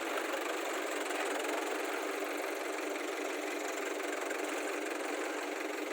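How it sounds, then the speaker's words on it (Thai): A farm tractor engine idles steadily without revving, a constant broadband drone with a faint knocking texture holding even for the whole stretch, with no voices over it. "รถไถไม่ได้เร่งเลยครับ"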